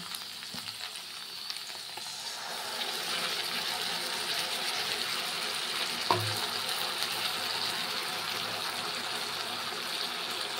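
Okra shallow-fried in a pan as ground spice paste goes in, a continuous close sizzle that swells louder partway through, with a brief clink of a utensil and no talk.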